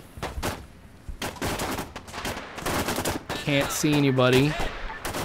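Bursts of gunfire crack out in the Arma 3 Resolute Alliance campaign night operation, several single shots and rapid volleys at varying distance, with someone talking over them.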